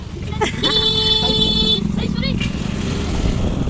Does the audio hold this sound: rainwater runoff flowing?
no